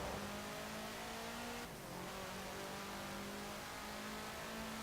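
Volkswagen Type 2 van engine droning steadily in Forza Horizon 4, a sustained mid-pitched hum with slight pitch shifts and a brief dip partway through, heard alone without talk.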